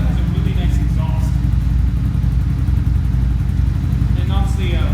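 A 125cc motorcycle engine with a silencer muffler exhaust idles close by, a steady mid-pitched chugging with a faint clatter throughout and no speech.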